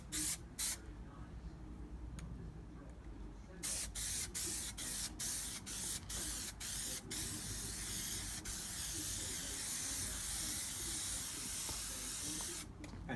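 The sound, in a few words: spraying adhesive onto van roof headlining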